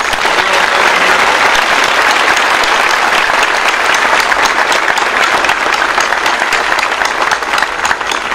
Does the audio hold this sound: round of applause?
yes